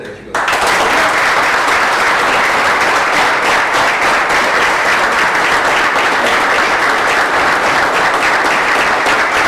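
Loud, sustained applause for students at a martial arts school event, a crowd clapping vigorously and continuously from start to end, close and dense.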